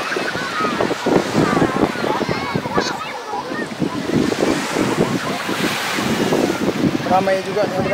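Surf washes steadily onto a long beach at Mimiland, Singkawang, a continuous rushing roar with wind buffeting the microphone and a few voices of bathers in the background.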